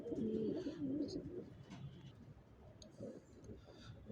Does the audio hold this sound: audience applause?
no